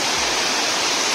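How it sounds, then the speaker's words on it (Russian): Loud, steady rush of water running right beside a house built at the water's edge beneath a small bridge in St. Gallen, Switzerland, a broadband roar heard up close with no talking. "Здесь шумит вода."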